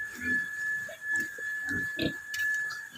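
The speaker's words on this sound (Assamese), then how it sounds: "সেয়া আমাৰ গাহৰি" Pigs in pens on a small pig farm grunt and oink in short, soft bursts at close range, with a thin steady electronic whine running underneath.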